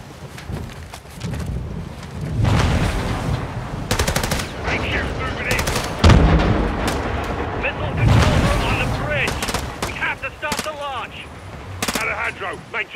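Intense gunfight in Call of Duty: Modern Warfare 2 (2022), loud rapid automatic fire in repeated bursts mixed with heavy impacts and booms, with brief gaps and shouted voices amid the shooting.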